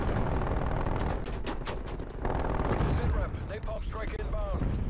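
Dense, continuous gunfire and heavy blasts from a grenade fight in Call of Duty, loud and chaotic throughout, with a player's voice talking over the combat.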